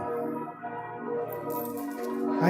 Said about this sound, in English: They're chiming the bells.